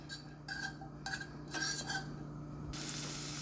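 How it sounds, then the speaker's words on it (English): Garlic frying in a pan for bacon crab fried rice, a steady close sizzle with light metallic stirring and utensil clinks on cookware, no talk. "Alright, so we got that sizzle."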